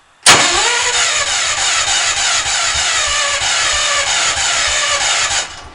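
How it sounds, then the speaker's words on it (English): An old car's starter motor cranks loudly and continuously for about five seconds inside an enclosed shed, with a rapid rhythmic chug beneath a harsh whine, then stops abruptly. "that starter's loud when you're in a nice enclosed shed."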